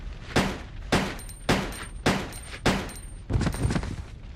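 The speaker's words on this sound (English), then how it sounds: "it took 5 shots with the regular M93R to take down a zombie" M93R handgun shots hitting a zombie in Resident Evil Code: Veronica X, about six loud, evenly spaced video-game gunshots with short echoing tails, the last pair coming faster.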